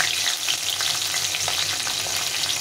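Black cumin seeds and green chilies crackle in hot oil for a mustard-poppy pabda fish curry, a loud, dense, continuous sizzle with faint stirring taps.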